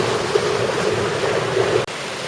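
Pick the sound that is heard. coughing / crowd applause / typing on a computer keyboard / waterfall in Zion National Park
waterfall in Zion National Park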